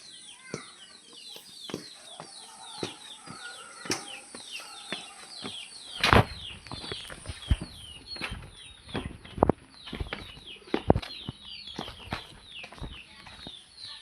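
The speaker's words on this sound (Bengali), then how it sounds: "এই দেখেন আমার চীনা হাঁস" A dense chorus of Chinese goose chicks chirps and peeps rapidly and continuously, with occasional sharp taps and wing flutters close by.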